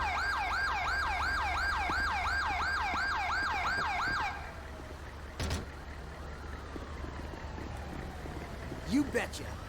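Ambulance siren in the video game GTA 5: a loud wailing siren cycles rapidly for about four seconds and then cuts off, leaving low engine rumble, a brief thump and a short rising tone near the end.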